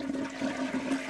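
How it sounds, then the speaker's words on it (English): A toilet flushing in the video game Chaos on Deponia, a steady rushing gurgle of water lasting about a second, close and moderately loud with no talking. "Now if we flush..."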